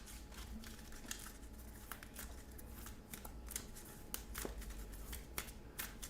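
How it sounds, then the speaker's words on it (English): A deck of level-one cards for the Call to Adventure board game being shuffled by hand, a steady run of soft riffling and snapping card clicks close up, with no talking. "We're shuffling up our level 1's cards."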